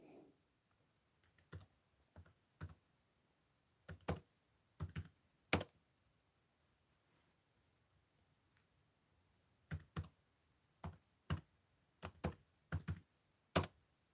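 A password is tapped out on a computer keyboard in scattered bursts of crisp key clicks, some single presses and some quick clusters, close and clear in an otherwise quiet room.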